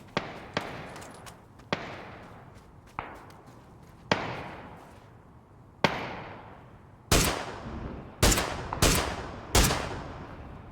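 Gunfire from a big gun in PUBG: Battlegrounds, a series of sharp, loud single shots at irregular intervals, each with a long ringing echo tail, ending in a closer cluster of five heavy blasts.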